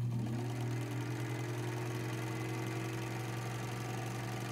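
An Elna Supermatic sewing machine runs a straight stitch through thick layers of felt, giving a steady, close mechanical hum and whir that holds evenly the whole way with no talk.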